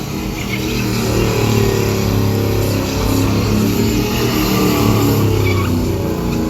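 A drift car with an LS engine, fitted with hand controls, holds a loud, steady high-revving roar during a drift show, the droning tone close and continuous with faint commentary beneath.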